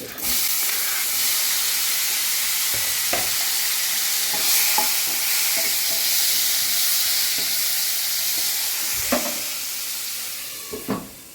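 Mustard seeds crackle and pop in hot oil over a steady loud sizzle, with scattered sharp spits throughout.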